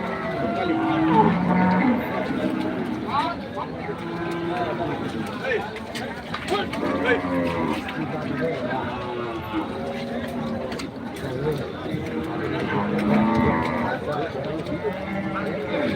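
Cattle lowing repeatedly at a muddy cattle market during heavy rain, several moos rising and falling near and far across the stretch, with people talking throughout.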